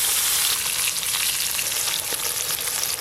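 Turmeric-and-salt-rubbed hilsa fish pieces fry in a wok with a loud, steady, dense sizzle and crackle that holds without a break.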